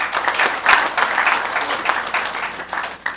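Applause from an audience at an arts and cultural management conference, uneven bursts of clapping that swell and dip across a few seconds with no talk.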